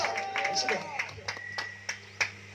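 Congregation applause at a Telugu church service, a spread of sharp claps and scattered louder smacks over a steady hum, with a voice audible beneath.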